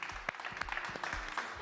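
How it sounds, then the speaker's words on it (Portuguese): A studio audience on a TV talk show applauds, a brief, steady patter of clapping at moderate volume with a few sharper claps. "Mais uma salva de palmas"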